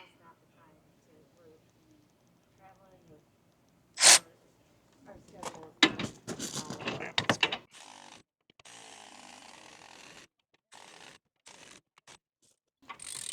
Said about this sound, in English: So I have to set my torque wrench.